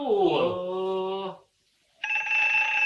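A telephone ringtone starts abruptly after a short silence and sounds as a steady electronic tone. A voice-like sound comes before it, in a Sundanese comedy sketch.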